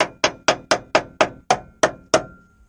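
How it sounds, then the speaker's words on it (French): Nine sharp hammer blows strike at a steady, slightly uneven pace during home renovation work, each a crisp close impact with a short ringing decay, heard alone without talk. "Et nous le marteau. De toute façon, tu l'entends."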